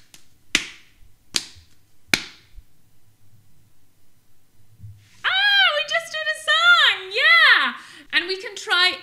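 Three sharp slaps on a pencil case ring out in an even rhythm, close and loud, followed by a stretch of quiet and then a voice singing or talking.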